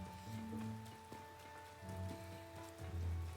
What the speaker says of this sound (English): Alright, getting out of the rain there.